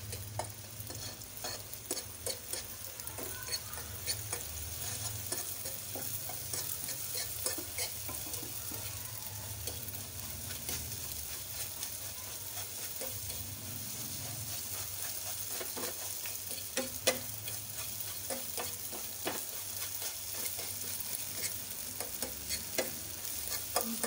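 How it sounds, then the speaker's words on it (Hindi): Eggs being mixed into dal in a hot pan, a low steady sizzle with frequent light scraping and tapping of a utensil, close but fairly quiet and continuous with no talking. "अंडे शामिल करने के बाद हम इसको अच्छी तरह से इस तरह मिक्स कर लेंगे।"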